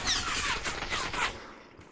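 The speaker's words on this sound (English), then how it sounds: "And you're getting shot at from over there," Gunfire in the Population One VR battle royale game, a dense burst of rapid shots for over a second that trails off into quiet, heard alone without talk.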